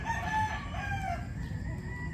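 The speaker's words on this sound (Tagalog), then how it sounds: "Ito po, ayan, isa nating broodcock yan." A broodcock rooster crows once in a backyard, a faint, fairly distant call over low background hum.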